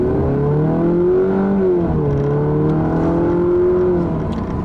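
A 2015 Chrysler 200 family sedan with a 9-speed automatic accelerates hard, its engine droning loudly and climbing in pitch, dipping briefly at a gearshift before pulling up again, with no voices.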